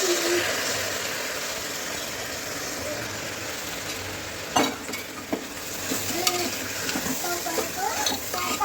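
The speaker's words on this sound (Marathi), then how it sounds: "तांदूळ आहे ते सगळीकडनं मसाला लागायला पाहिजे मिक्स करून घेतलेले चमचाना व्यवस्थित" Washed rice being stirred with masala in a pan using a spoon, a continuous low sizzle with scraping and a few sharp metallic knocks of the spoon later on.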